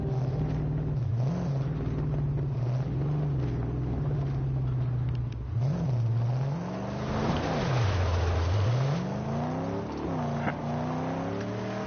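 A car engine in the Mad Max video game drones steadily with nitro fitted, its pitch wavering as it revs up and dips during the drive, loud and continuous throughout.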